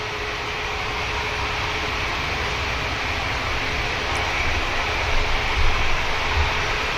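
An Icelandair Boeing 757 jet at Manchester Airport gives a steady, broad engine roar that holds at an even level throughout, with slight surges near the end.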